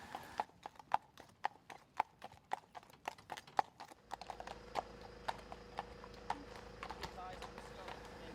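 Bertie, a 12-year-old piebald cob, pulling a two-wheeled carriage, his hooves making steady, even clip-clops close by, then joined by a rolling wheel rumble as the carriage moves off, with talk over the top.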